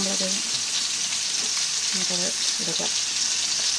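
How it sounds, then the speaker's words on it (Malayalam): Kerala-style pepper fish frying in a pan over low heat: a steady, loud, hissing sizzle that runs throughout, with brief faint voiced sounds now and then. "ഒരുപാട് തീ കൂട്ടി വെക്കണ്ട കേട്ടോ ചെറിയ തീയിൽ വറുത്തെടുത്താൽ മതി"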